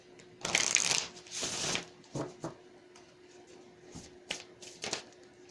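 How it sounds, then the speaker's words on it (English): Tarot cards shuffled for a reading give two quick papery riffles up close, then a string of softer, scattered card slaps and taps with quiet pauses between them. "So let's go ahead and get you guys some more cards."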